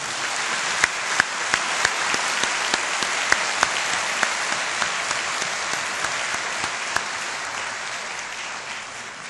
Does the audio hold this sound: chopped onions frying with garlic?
no